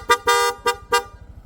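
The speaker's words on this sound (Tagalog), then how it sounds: "Pag in-on natin, Bosch Evolution" A Bosch Evolution horn fitted to a Honda Click V3 scooter honks four times in quick bursts, the second blast held longer, with a steady engine hum underneath.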